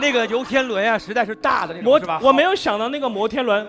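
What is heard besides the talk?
None of the usual background noises is heard.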